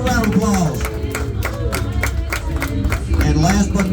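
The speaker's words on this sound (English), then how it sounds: "Come on, give him a round of applause." Crowd clapping in a round of applause at a rolling coal event in Pigeon Forge, rhythmic claps under loud engine rumble and a voice talking over it.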